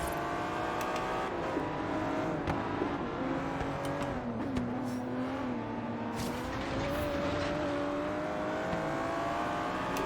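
An Aston Martin V12 Zagato's engine drones steadily in Forza Horizon 3, pitch sliding up and down through gear changes on a mixed-surface sprint, with occasional tire noise and no talk.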